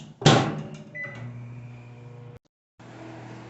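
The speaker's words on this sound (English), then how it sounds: "taking marshmallows over to our lovely microwave, and we'll microwave for 1 minute." A microwave oven heating marshmallows gives a steady low electrical hum with a sharp starting click, then cuts out briefly before the hum resumes.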